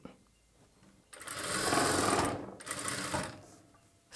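Sewing machine stitching a plain blouse, whirring in two steady runs with a brief pause between, starting from quiet and picking up again at the end.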